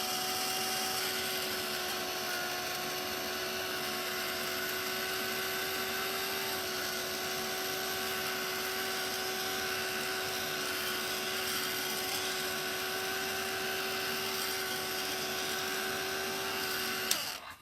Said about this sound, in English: My heat tool is getting very loud.